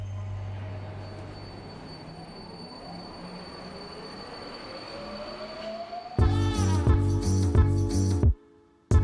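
A Budapest tram on the 4 and 6 routes rumbles along steadily, a rising wheel squeal building, then a louder burst of rolling and clattering near the end before briefly dropping off.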